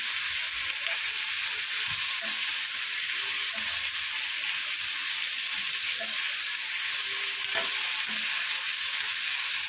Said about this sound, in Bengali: এইটা ভেজেই আমি ভাতের জলটা বসিয়ে দেবো একটু ভালো করে ভেজে নিই নুন দিয়ে